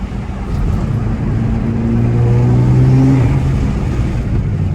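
A 700whp Alpha 7 Nissan R35 GTR engine hums low and steady from inside the car while a turbo whistle rises and falls, swelling in the middle before easing off, with no talk.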